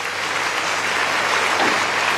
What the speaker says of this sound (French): Et on peut l'applaudir bien fort.